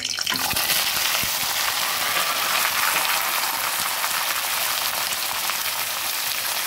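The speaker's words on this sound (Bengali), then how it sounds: "পেঁয়াজগুলো খুব ছোটো ছোটো করেই কেটেছি। এবার ভালো করে ভেজে নেব।" Finely chopped onions and green chillies fry in a pan for mutton curry, a steady loud sizzle filling the whole stretch with faint stirring scrapes beneath.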